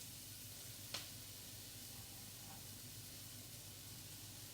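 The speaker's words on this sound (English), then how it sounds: "We should hear an immediate sizzle," Onions sizzling in a hot pan of olive oil while cooking beef and cheese enchiladas, a steady quiet hiss with one brief sharp crackle early on, no talking.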